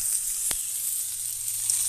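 A haddock fillet sizzles in a pan over a campfire, a steady bright hiss of frying that runs throughout, with a single short crackle partway through.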